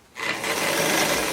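A sewing machine stitches along a fabric hem, starting abruptly and then running at a steady fast buzzing rattle, close and loud with no speech.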